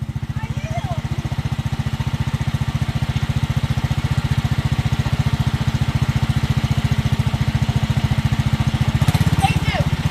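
Small 212cc MaXpeedingrods single-cylinder engine fitted to a John Deere 110 lawn tractor, running with a steady fast putter throughout, loud and close, rising slightly near the end.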